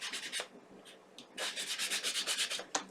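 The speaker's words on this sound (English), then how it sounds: "I know I'm sanding over my work and it does get messy" Sandpaper rubs over a paper craft piece in short, rhythmic strokes, close and crisp, with a pause and then a faster run of scrubbing passes.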